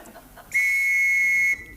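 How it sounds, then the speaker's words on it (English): A single sharp, shrill whistle blast lasts about one second, loud and close, cutting in abruptly and stopping cleanly against an otherwise quiet indoor background. "What's the whistle for?"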